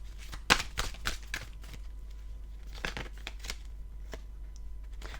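Tarot cards are shuffled and drawn by hand, with crisp riffling bursts and a few light flicks and slaps of card stock at close range over a steady low hum.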